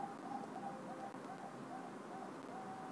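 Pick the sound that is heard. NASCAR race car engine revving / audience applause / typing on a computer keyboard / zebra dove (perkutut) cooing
zebra dove (perkutut) cooing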